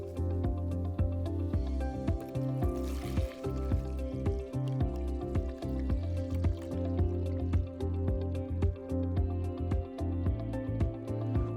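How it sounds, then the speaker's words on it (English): Disinfectant chemical poured into a flex liner bag for a Graco SaniSpray 20HP cordless handheld sprayer, a close, sustained liquid stream with dripping, squishy splashes and a steady mechanical hum underneath. "now you're ready to move this chemical into your flex liner bag"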